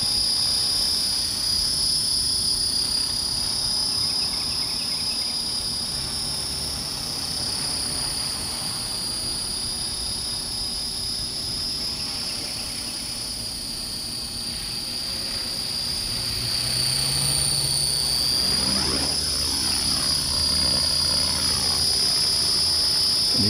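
A remote-control T-Rex helicopter hovers close by with a continuous high-pitched motor and rotor whine, holding steady for most of the time and shifting pitch near the end; no talking.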